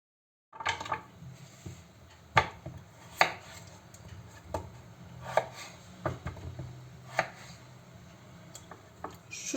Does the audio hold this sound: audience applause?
no